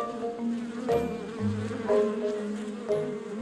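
Honey bees buzz close by in a wavering drone, several insects flying around with the pitch rising and falling.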